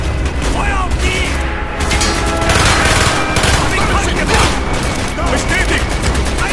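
Dense, continuous gunfire and bursts in the Call of Duty Black Ops video game, loud and sustained with booming shots, while voices shout over the battle.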